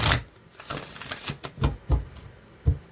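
Cards being shuffled in a series of quick riffling bursts and soft slaps, close by, with short pauses between them.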